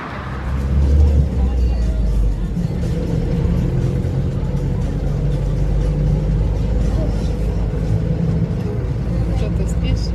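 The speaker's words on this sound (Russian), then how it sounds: "Маршрутку ждем на остановке." Steady road traffic rumble at a bus stop while waiting for a minibus, with cars and buses passing close by in a continuous low drone; people talk over it now and then.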